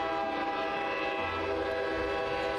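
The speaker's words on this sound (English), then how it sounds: "there is a loud whistling as the fully loaded train lurches into motion, gradually picking up speed" A train whistle sounds as a fully loaded train pulls away in the video game Girls' Frontline 2, one loud sustained tone held throughout over a low rumble of the cars starting to move.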